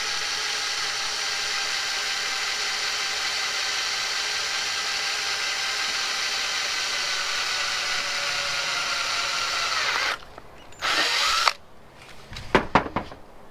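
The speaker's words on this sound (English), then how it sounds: "I'm going to drill on those dots" Power drill bores holes for an Auxbeam light mount on a Nissan Titan Pro-4X, a loud, steady high whine held for about ten seconds before stopping, then a few short bursts and clicks.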